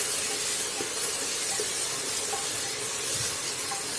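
Masala with ginger paste roasts in a pan before mutton goes in. A soft, steady frying hiss with faint crackles continues evenly throughout, without voices.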